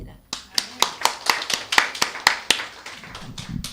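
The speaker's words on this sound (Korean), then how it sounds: "하나의 영광의 박수 올립니다." A small church congregation clapping in a steady, evenly spaced rhythm, about a dozen sharp claps close by, with faint murmuring toward the end.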